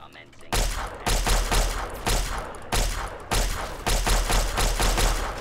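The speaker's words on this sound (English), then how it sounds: "I'm gonna cut you with a laser rifle." Laser rifle fire in Fallout 3 comes in loud, close, rapid bursts of shots, separated by brief gaps.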